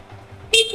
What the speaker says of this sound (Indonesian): Klakson juga masih sangat berfungsi dengan baik.